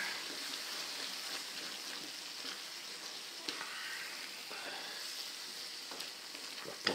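Vegetables sizzle steadily in a frying pan while being stirred, a continuous close hiss with small scraping bumps and no talk.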